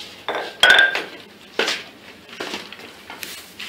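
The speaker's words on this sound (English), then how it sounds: "we are now inserting the rods into these hollow cubes that we have made" Metal rods being fitted into hollow cubes, a few sharp metallic clinks and scrapes with one bright ringing knock near the start, then softer intermittent taps and rattles close by.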